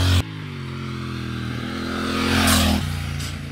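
A Triumph Thruxton RS parallel-twin café racer motorcycle accelerates close by, its engine note rising smoothly in pitch and loudness through a gear before easing back, heard alone with no talk.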